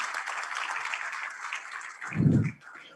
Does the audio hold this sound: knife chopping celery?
no